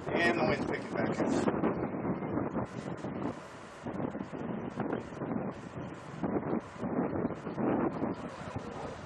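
Gusty wind buffets an outdoor microphone at an airgun shooting session, rumbling loudly in uneven surges. A person speaks intermittently underneath.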